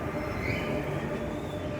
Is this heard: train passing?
yes